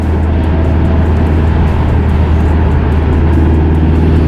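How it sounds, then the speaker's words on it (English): Engine and turbo boost from a fully built Subaru WRX while driving, a steady loud drone with strong low rumble and continuous mechanical noise throughout, no voices over it. "I don't know if you can hear that, but that is boost"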